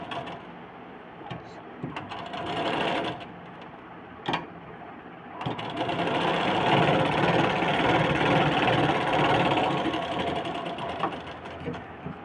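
A sewing machine stitching a blouse runs in a few short starts with clicks between, then settles into a long steady whirring run, close and moderately loud.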